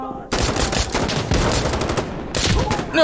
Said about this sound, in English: I think somebody just shot at me.